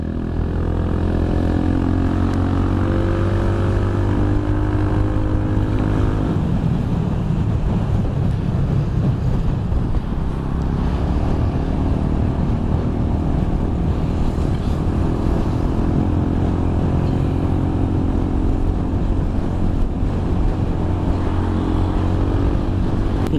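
A Yamaha XMAX 250 scooter with a high-compression engine runs steadily and loud up close, a continuous droning hum with a shift in pitch partway through and no talking.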